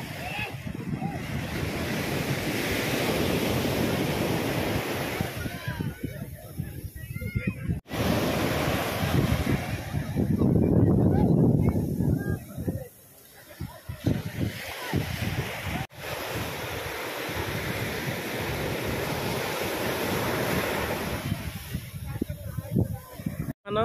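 Sea waves break and wash continuously onto a Goa beach in a steady roar, with gusting wind buffeting the microphone and someone talking over the surf.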